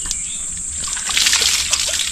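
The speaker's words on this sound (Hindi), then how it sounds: "बाल्टी में पानी भरकर स्नान कर लेता हूँ।" Water sloshes and splashes in a bucket filled for bathing outdoors, a steady watery wash with brief splashes growing busier toward the end, with faint bird calls behind it.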